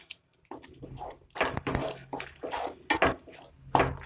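Water is poured from a glass into a simmering pan of egg masala gravy, making close, irregular splashing and gurgling bursts with no talk.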